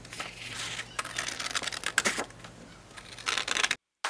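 Small scissors snip through paper while cutting out handmade photo props, a series of quiet close crisp cuts and rustles over a faint background hum.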